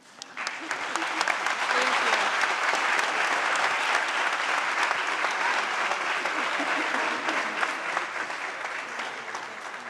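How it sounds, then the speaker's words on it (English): At a State of the City address in Newport News, a large audience breaks into loud, even applause. It swells quickly and holds steady for around ten seconds. "One last round of applause."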